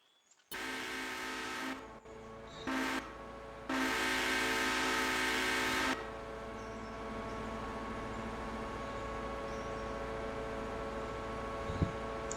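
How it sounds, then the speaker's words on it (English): Train departing in the railroad video game Railroader, a loud sustained horn blasting in several long and short bursts over a steady engine drone that continues after the horn stops. "so that train is off to Whittier"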